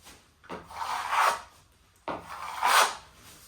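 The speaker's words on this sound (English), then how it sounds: "Just give it a brush along here." Two broad rasping strokes of a plasterer's brush or trowel along fresh plaster on a wall, each rising and fading over about a second, close and fairly quiet with a pause between them.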